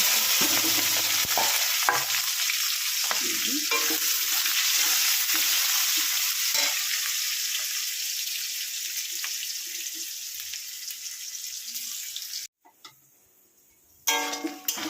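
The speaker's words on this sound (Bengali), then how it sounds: "এবার আমি এখানে দিয়ে দেবো কেটে রাখা পেঁয়াজ আর কাঁচা লঙ্কা।" Chopped onion and green chillies sizzle in hot oil tempered with cloves, cumin and a dried red chilli, with steady frying hiss and repeated scraping stirs; the sizzle drops out briefly near the end before resuming.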